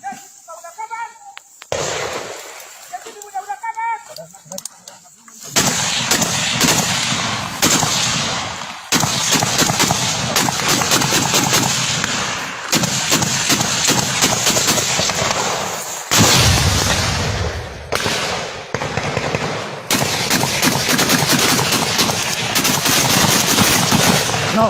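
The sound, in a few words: launcher and gunfire shooting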